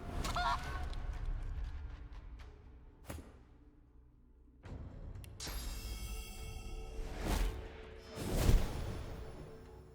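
A chicken in the video game Divinity: Original Sin 2 honks and squawks loudly in a few bursts over a busy backdrop of game effects and thumps, with no talking.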